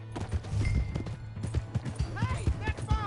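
Horse hooves clip-clop steadily in Red Dead Redemption 2, a galloping rhythm of close, moderately loud beats running under game voices and a low constant hum.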